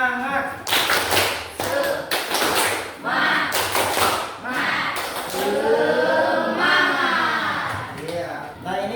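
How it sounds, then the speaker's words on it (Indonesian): A school class performs a rhythmic spirit clap (tepuk semangat) in a classroom, bursts of group clapping in patterned rhythm alternating with loud chanting voices, close and energetic. "Kita tepuk semangat dulu deh biar gak loyo."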